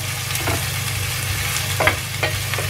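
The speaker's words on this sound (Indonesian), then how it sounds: "Kita tumis bawang merah sama terinya juga ya." Shallots, garlic, chili and anchovies sautéing in a pan for long beans and tempeh, a steady hiss of frying with occasional sharper sizzles and stirring scrapes, close and alone with no talk.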